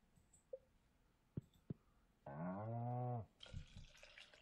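A cow in the farming game Stardew Valley gives one sustained, harmonic moo lasting about a second, preceded by a few soft clicks and followed by light game ambience.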